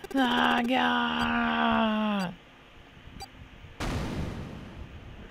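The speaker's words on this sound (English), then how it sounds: "The explosion rocked the room." A long, strained vocal groan breaks off, then a sudden rumbling blast erupts and lingers as a dense, noisy roar: a bomb explosion in the video game 999.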